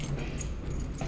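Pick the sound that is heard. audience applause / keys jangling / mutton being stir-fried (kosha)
keys jangling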